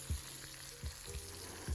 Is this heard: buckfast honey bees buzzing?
no